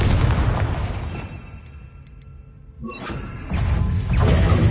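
A Confringo fire-blast spell in Hogwarts Legacy explodes in loud booming bursts with rumbling tails. The blasts dip into a brief quieter lull before erupting again.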